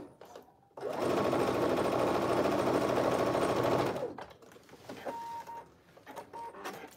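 A sewing machine runs steadily for about three seconds as it stitches T-shirt fabric, a close, even mechanical whir that starts and stops abruptly, with quieter handling noises afterward.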